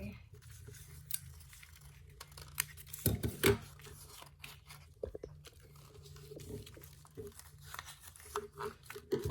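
Scissors snip through paper to cut out a curved shark-fin shape for a low relief paper fish, a few quiet crisp cuts and rustles spread out over a soft background.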